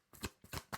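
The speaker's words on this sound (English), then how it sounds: "I started shuffling" Tarot cards being shuffled by hand, three quick close riffling bursts in an even rhythm, soft and with no talking.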